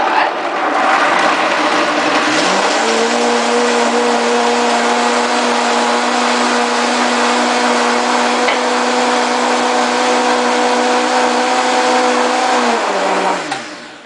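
A blender runs continuously for about twelve seconds, chopping almonds into almond milk, with a steady loud motor whine that spins up at the start and winds down at the end.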